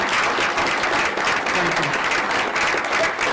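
An audience at a school district board meeting applauds, steady dense clapping from many hands filling the room for a few seconds without a break.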